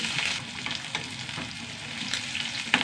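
Small shallots and curry leaves fry in a pan with a steady, crackling sizzle and scattered sharp pops, fairly soft and close, with no voices.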